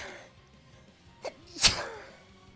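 A single sharp sneeze bursts out after a faint intake of breath, loud and close, against a quiet room.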